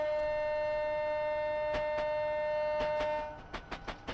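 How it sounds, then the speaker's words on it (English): A train horn blasts in one long, steady, chord-like tone for over three seconds, then breaks into a run of short, sharp hoots, sounding on a morning commute along the East Coast Main Line south towards Stevenage. "That sounds like a goal horn more than a train horn."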